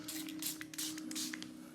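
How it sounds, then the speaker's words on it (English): A fine-mist spray bottle spritzing water onto watercolour paper, several short hissing bursts in quick succession, close and fairly soft, with no speech. "I've got a little spray bottle here"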